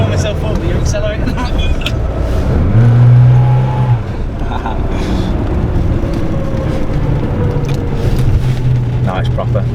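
Classic Mini car engine accelerating, a loud throaty drone that swells and revs up briefly before settling, heard from close by inside the car while people talk over it.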